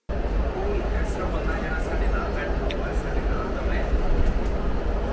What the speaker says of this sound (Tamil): ஆக்சுவலாக ட்ரெயின் போகவும் வரவும் வந்துக்கிட்டே இருக்குங்க